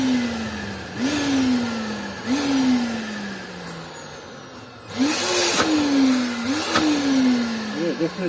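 An industrial vacuum cleaner motor drones with a low, pitched whine that repeatedly rises and sags as the load shifts, punctuated by bursts of hissing suction, fairly close and loud.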